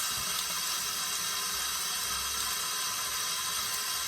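Hands rinse under running tap water while a worker washes after a client injury with blood exposure, a steady close broadband water hiss and splash that barely changes over a few seconds, no talk.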